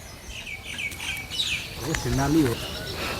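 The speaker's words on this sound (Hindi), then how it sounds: "ये वाले पेड़ में बैठी हैं शायद ये चिड़िया, तभी इतनी आवाज़ आ रही है।" Birds perched in a tree in a village setting chirp and tweet busily, with quick, high calls repeating up close over outdoor ambience and light rustling.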